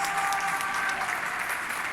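A crowd applauds from balconies and along a street in Valencia as a tribute to health workers: continuous, even clapping from many hands, fairly distant and diffuse, with no break.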